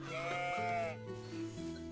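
A lamb bleats twice in Medieval Dynasty, a medieval farming video game, the wavering calls close and clear, with a lower sheep-like bleat joining in.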